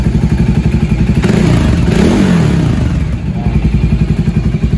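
Voge 300R motorcycle fitted with an aftermarket exhaust, idling loud and close with a rapid throbbing pulse, briefly revving up and easing back down, heard alone at night.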